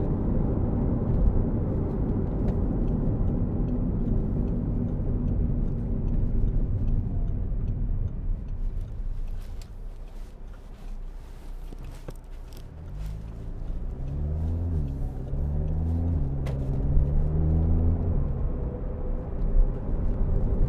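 A 2011 Audi TTS 2.0 TFSI quattro heard from inside while driving: a steady low engine and road drone that eases off for a moment, then a rising engine note as revs climb again.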